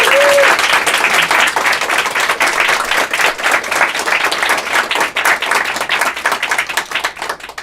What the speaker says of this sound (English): Big round of applause for Diane Paulus.